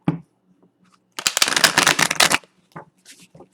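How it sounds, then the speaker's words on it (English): Tarot cards are riffle-shuffled in one loud, close burst of rapid flutter lasting just over a second, framed by quiet handling taps and faint rustles. "Let me shuffle one more time."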